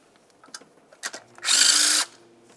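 A power tool spins briefly while removing a 10 mm ignition coil bolt on a 2005-2010 Dodge Dakota: a short, loud whir of about half a second after a few faint clicks and handling noises.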